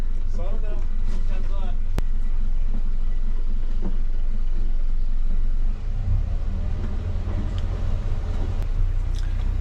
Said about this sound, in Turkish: Arkamdaki tekne de balığa çıkıyor.